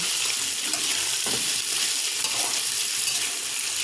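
Tofu for sisig fries in a pan with a constant bright sizzle and crackle, close up, with a faint clink partway through.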